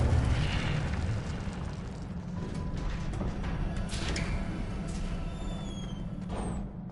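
An Incendio fire spell cast in Hogwarts Legacy on PS5, a loud rushing whoosh and rumbling burst that slowly fades, with faint higher whistling streaks over a dense low roar.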